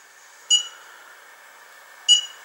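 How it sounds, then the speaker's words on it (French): Kokoon CO2 sensor emitting two short sharp electronic beeps about a second and a half apart, clear and close in a quiet room. "Ah, il commence déjà à biper parce que je lui souffle dessus."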